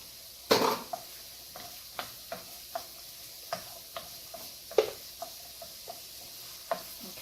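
A shallot sizzles softly in a pan for chicken Alfredo, while a utensil knocks and scrapes against the pan in a steady run of sharp, close clicks about every half second.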